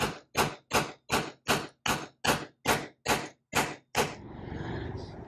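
A seal is driven into a Berkeley 12JG jet boat pump with eleven evenly spaced, solid hammer blows close up, followed by a soft rustling settle.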